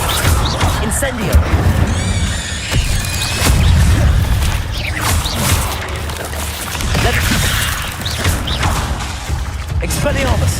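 Incendio fire spell cast in the video game Hogwarts Legacy, heavy booming bursts and crashing impacts amid chaotic combat noise, mixed with shouted voices and whistling effects.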